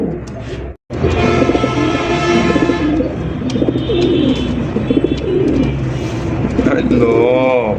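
Loft pigeons kept for sale coo in a dense, loud chorus that runs almost without a break, with wing flutters and chatter mixed in. Someone talks over the birds throughout.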